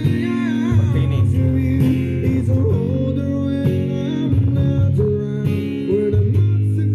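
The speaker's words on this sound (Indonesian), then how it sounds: "Suaranya lebih ngebas dari yang kemarin karena menggunakan switching yang 20 ampere pakai woofer seperti ini." Bass-heavy music plays through a small Lepy LP 838 hi-fi amplifier with a 20-ampere switching supply and a woofer, loud and continuous, with a thick low end under shifting melodic tones.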